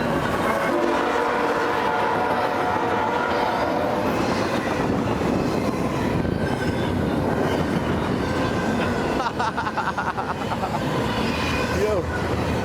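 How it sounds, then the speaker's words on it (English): A train rumbles continuously past in downtown Winder, Georgia, on the rail line by North Broad Street. Steady loud rolling noise throughout, with a brief horn-like tone near the end. "The train, let's get the train."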